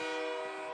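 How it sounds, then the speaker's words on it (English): A CP train horn blares after a Sudbury Five basketball victory at an NBL Canada game, a single sustained chord-like blast heard alone for under a second. "The CP train horn sounds, meaning a Sudbury 5 victory."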